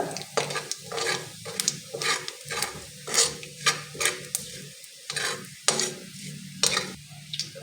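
Cumin and mustard seeds with browned garlic sizzle in hot oil for poha chivda while a spoon stirs the pan, giving a crackling hiss broken by rhythmic scraping strokes, close and clear with no talk.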